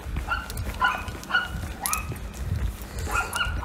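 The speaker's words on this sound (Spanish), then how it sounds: "qué festival de perros" Several dogs bark in repeated short yips and barks, fairly close, over a low background rumble, with no talk over them.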